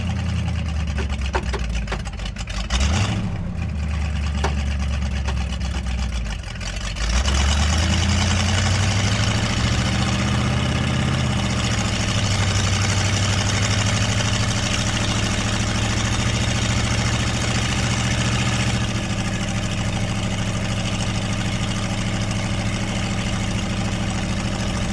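A Rat Rod car with a 454 engine idling, a loud, deep, steady rumble, briefly revved with a rising and falling pitch early on, then settling into a constant low idle.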